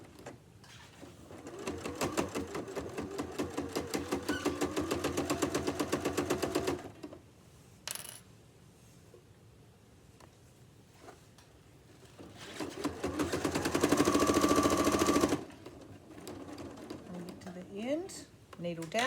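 A sewing machine stitches a pocket onto a tote bag in two rapid chattering runs, first forward and then a brief back stitch, close and fairly loud, separated by a quiet pause with small handling clicks.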